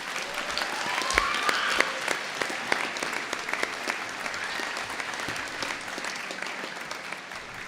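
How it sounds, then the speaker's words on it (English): Dense, steady applause from a graduation ceremony audience, clapping continuously at even loudness with a few sharper claps standing out. "That was some seriously good cheering"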